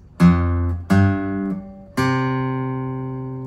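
An acoustic guitar plays a bar from a song: three plucked bass notes, each ringing clearly and decaying, the last one sustained, played close and alone.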